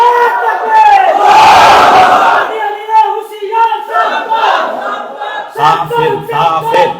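A large crowd shouting a takbir chant in unison, loud and close, with rising and falling voices in rhythmic call-and-response bursts.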